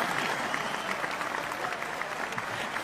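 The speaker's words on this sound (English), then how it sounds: "Let's give her an enormous round of applause" A studio audience at a radio show claps steadily for a guest, the applause dense and continuous throughout with no talk over it.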